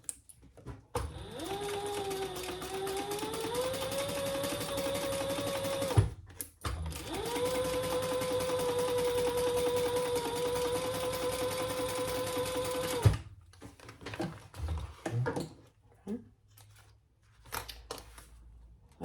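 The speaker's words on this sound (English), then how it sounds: "we're going to sew across this top edge only at the seam allowance in the pattern" A sewing machine stitches lining across the top edge of a sling crossbody bag in two long runs, each several seconds, with a whirring hum that briefly changes pitch, followed by quieter handling noises.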